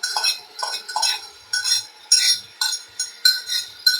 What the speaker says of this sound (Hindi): अब हम ये अपना अदरक लहसुन जो हमने कूट के रखा था मोटा मोटा,